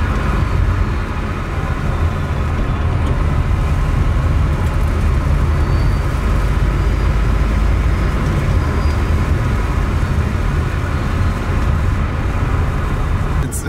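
Inside an electric-converted BMW 2002 on the move, with no engine note, only a steady, constant hum of road and drivetrain noise filling the cabin throughout.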